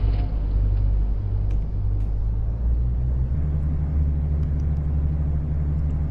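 A car in a video game drives along with a steady low engine rumble, loud and continuous, shifting to a slightly different pitch partway through, with no talking.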